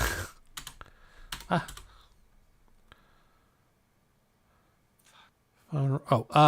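Quick bursts of typing on a computer keyboard, clicking close by in short runs, with a voice talking before and after a quieter stretch.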